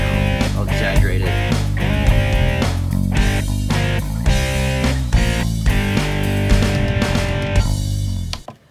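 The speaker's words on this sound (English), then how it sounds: "Really hear the reverb on the drums right now." A home-recorded rock mix of bass, distorted guitars and drums with heavy, exaggerated reverb on the drums, loud and continuous before cutting off at the end, no talking.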